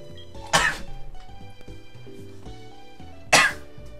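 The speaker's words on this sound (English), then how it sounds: "I snuff, a sneeze, and a cough at the same time." Two sharp, explosive bursts, a sneeze-like blast followed a few seconds later by another cough-sneeze, loud and close over quiet background music.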